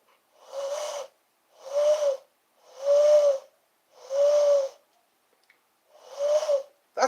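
A person imitates an owl with five separate drawn-out hooting calls, each about a second long and evenly spaced by short pauses, close and clear against near silence.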